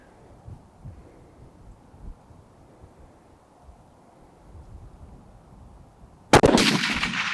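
One sudden, loud rifle shot at an outdoor 500-yard range cracks out after several seconds of soft wind rumble, followed by a trailing boom and echo.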